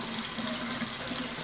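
Hot water running from a kitchen tap into a sink, a steady close rushing splash that stays constant throughout with no voices.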